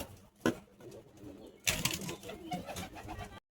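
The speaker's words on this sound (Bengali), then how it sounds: "এই যে তোমাদেরকে আর একটা শখের পায়রা দেখাচ্ছি দাদার, ম্যাড্রাস আন্দারা লাইনের পায়রা আছে" A male Madras Andara line pigeon coos softly in a loft, with a couple of sudden wing flutters and faint rustling scattered across the quiet background.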